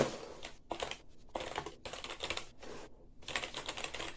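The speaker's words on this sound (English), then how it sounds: "I'm going to give you some typing." Typing on a light plastic XINMENG 61-key RGB gaming keyboard: rapid clicky keystrokes in bursts with brief pauses, close and fairly quiet, no talking.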